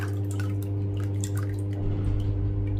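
Kefir poured and strained through a sieve: steady wet dripping and trickling close by, with soft squishy liquid sounds over a constant low hum, no voices.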